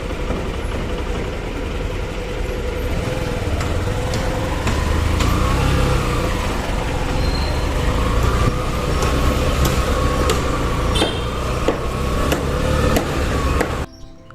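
A Hero Passion Pro Xtech 2022 motorcycle being ridden, its engine droning steadily under constant road and wind rush, with the noise cutting off abruptly at the end.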